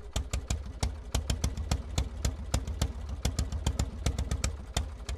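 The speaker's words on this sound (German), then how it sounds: "Am Silvesterabend 1879 springt sein Motor erstmals an." An early Benz single-cylinder engine from 1879 running, a loud, close, evenly spaced train of sharp firing pulses with a chugging rhythm, sounding alone.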